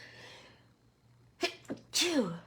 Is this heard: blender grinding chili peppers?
no